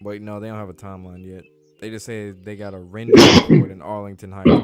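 One person sneezes sharply and loudly in the middle of casual conversation, a brief explosive burst between stretches of male speech.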